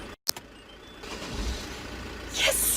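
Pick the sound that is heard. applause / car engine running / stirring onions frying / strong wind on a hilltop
car engine running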